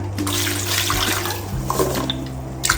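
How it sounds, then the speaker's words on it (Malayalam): Water pours steadily onto jaggery in a continuous splashing stream, close and fairly loud, with a faint low hum beneath and no voices. "ഇതിൽ കുറച്ച് വെള്ളം ഒഴിച്ചു കൊടുക്കാം"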